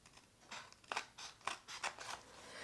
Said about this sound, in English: I'm just going to cut it with scissors because we have a cardstock base